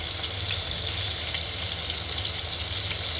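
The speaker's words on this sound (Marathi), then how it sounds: "दोन्ही बाजूने चांगलं फ्राय होऊन द्यायची कोलंबी." Prawns fry in a pan, turned to crisp on both sides, giving a steady, close, dense sizzle that holds evenly for the whole stretch with no voices.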